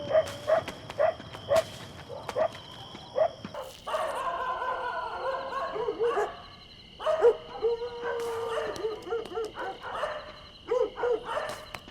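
A distant dog barks and whimpers in short, spaced bursts within a film sound mix, with low background ambience between the calls.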